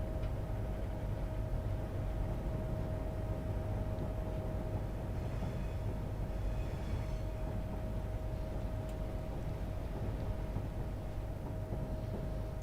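A train pulls into platform 1 at London Euston in Train Sim, a steady low rumble and rolling rail noise with a constant tonal hum, even in level throughout and without talk.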